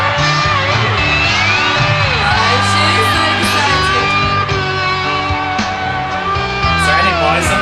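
A live crowd at a concert yells and whoops steadily under loud rock music with piano, dense and continuous throughout.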